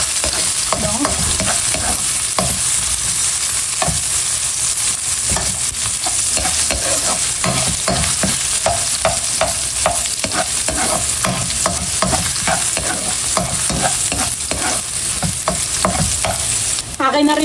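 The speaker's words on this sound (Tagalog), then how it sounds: "Akin na pong igigisa itong ricado." Aromatics for chicken cooked in coconut milk with papaya are sautéed in a pan, with steady loud sizzling and frying under repeated scraping stir strokes throughout, and no voices.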